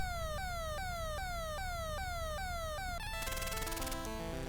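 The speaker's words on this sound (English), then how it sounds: "Immediately you hear the sound of sirens." Police sirens in the NES game Déjà Vu: loud repeating descending electronic wails in a fast regular cycle, then a dense harsh chiptune cacophony of stacked tones near the end, with no voices.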